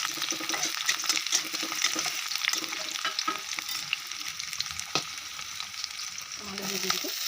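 Chopped onion and green chili fry in hot oil in a wok, giving a steady close sizzle and crackle with faint stirring scrapes throughout, with no talking.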